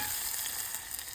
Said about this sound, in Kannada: ಬೆಂಡೆಕಾಯಿ ಪಲ್ಯ ರೆಡಿ ಆಗ್ತೈತಿ ಈಗ